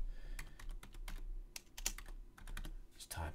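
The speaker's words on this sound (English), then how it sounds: "Just type it in here." Computer keyboard typing in short irregular bursts of clicks, close and fairly quiet, entering a trade on a cryptocurrency trading platform.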